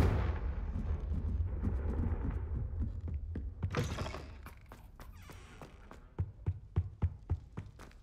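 A Confringo fire spell in the video game Hogwarts Legacy bursts with a loud blast that flares and then dies away, leaving a low rumble before a run of sharp, separate crackling impacts toward the end.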